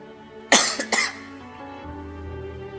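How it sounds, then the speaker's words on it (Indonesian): A single harsh cough, close and loud, splits into two quick bursts, then fades into a quiet room with a faint low hum. "Penyakitnya batuk."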